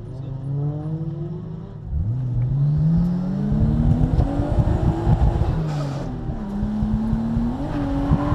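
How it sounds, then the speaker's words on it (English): A Nissan Skyline R33 drift car engine revs repeatedly at a drift event, pitch climbing and falling through hard accelerations, loud and close with rough sputtering between pulls. "Drift car."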